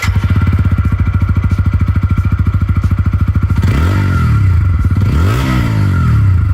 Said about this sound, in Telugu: అలాగే దీని ఎగ్జాస్ట్ నోట్ కూడా ఎలా ఉందో చూద్దాం ఒకసారి.